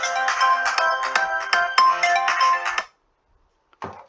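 A telephone ringtone plays an incoming call as a loud, rhythmic electronic melody of repeated tones for about three seconds, then stops abruptly, followed by silence and a short voice.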